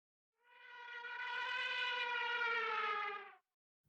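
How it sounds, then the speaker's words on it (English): A synthesized TIE Fighter engine layer built with boosted mids, a harsh exciter, chorus and modulation: a steady, buzzing, harmonic-rich roar that swells in, holds for about three seconds, and cuts off cleanly, heard alone. "I think this sound can also be used for designing the interior scenes from TIE Fighters"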